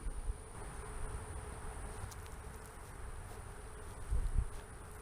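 A Florida honey bee buzzing close around a beekeeper at the hive, a faint, steady insect hum with a brief louder swell near the end.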